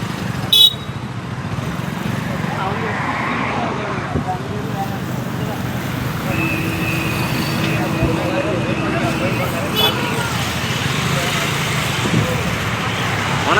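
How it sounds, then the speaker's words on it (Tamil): Several bikes pull away from a KTM showroom in Namakkal, engines and horns mixing with steady roadside traffic noise, a brief tooting horn among them, while people talk nearby throughout. "ஒரு 4-5 வண்டி புறப்பட்டுருச்சு"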